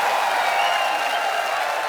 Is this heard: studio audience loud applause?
yes